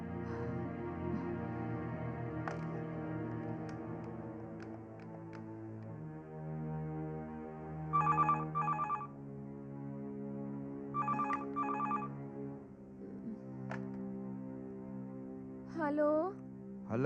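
Telephone bell ringing in a Hindi horror suspense drama, heard as repeated short ring bursts over a sustained musical score, with a brief voice near the end.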